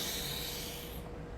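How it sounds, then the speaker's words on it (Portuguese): A deep breath drawn in during a guided breathing exercise, a single steady airy inhalation heard close and alone, fading out after about a second. "Eu quero que vocês façam uma respiração profunda."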